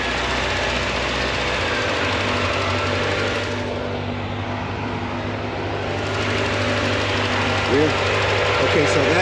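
A Corvette C4 engine idles nearby with a steady, droning rumble and a light mechanical ticking, and a fan hums along with it.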